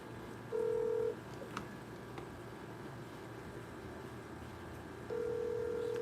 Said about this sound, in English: It's a calling and it's a ringing